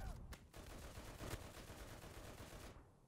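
Dense automatic gunfire from the Enlisted video game, including an M1919A6 .30 cal machine gun, rattles continuously at close range with sharp bursts throughout.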